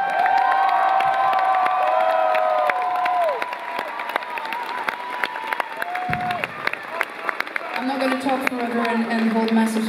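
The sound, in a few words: concert crowd clapping and cheering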